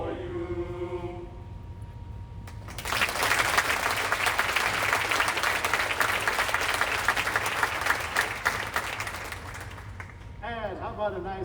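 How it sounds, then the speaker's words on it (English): A school concert audience bursts into sustained applause after a jazz band and choir performance, a full round of clapping that swells and holds for several seconds between brief stretches of talk at either end. "a nice round of applause"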